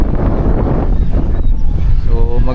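A strong wind buffets the microphone outdoors at a seaside lookout at Montemaria, making a loud, continuous, rumbling roar, with a faint voice briefly audible near the end.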